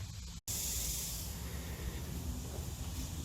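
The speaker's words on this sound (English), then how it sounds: "we're also using this Rust-Oleum stone textured kind of spray paint" Rust-Oleum stone textured spray paint hisses steadily from the can onto a Datsun 240Z vintage race car body. The spray is close and continuous, with one brief cut near the start.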